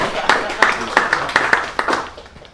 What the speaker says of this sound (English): Let's give Darren a round of applause